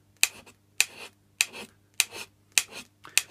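A hand scraper rough-scraping the flat of a Myford 7x7 lathe cross slide, six evenly spaced rasping strokes, each a sharp scrape that trails off, close and fairly loud over a low steady hum.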